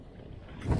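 Wind buffeting a microphone on a fishing boat out on Cayuga Lake, a low rumbling gust that swells louder toward the end of the brief moment.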